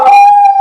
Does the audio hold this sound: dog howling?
yes